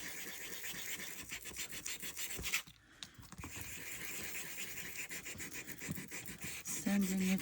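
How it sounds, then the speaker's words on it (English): Steady, close rubbing and scratching of sandpaper worked back and forth over a playing card covered with book pages, with a brief pause partway through. "sanding it a little bit."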